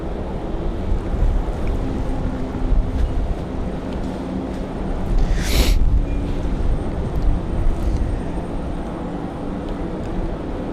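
Steady, loud wind buffets an open airport apron after a snowstorm, a continuous low roar with a brief stronger gust near the middle, no talking.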